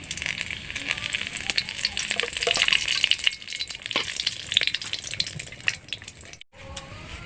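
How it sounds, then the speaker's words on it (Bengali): Whole cumin, a dry chilli and a bay leaf crackle and sizzle in hot oil, a busy spitting hiss with sharp pops, easing toward the end with a brief clean gap before it resumes. "আমি ফোড়নে দিচ্ছি গোটা জিরে, একটা শুকনো লঙ্কা আর একটা তেজপাতা।"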